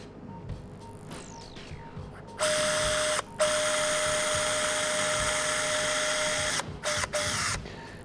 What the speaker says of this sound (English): we're now going to delicately drill a tiny hole in a tiny bone